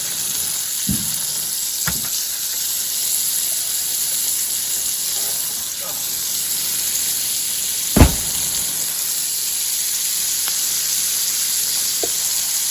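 Trout fillets laid in melted butter in a pan give a steady, bright sizzle, with a few soft knocks and scrapes over it and no talking.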